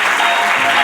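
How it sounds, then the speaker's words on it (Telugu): Loud audience applause at a public talk, heard as a short, dense, even burst of clapping up close. "ఒక్కసారి చప్పట్లు కొట్టండి ఆ వాక్యానికి"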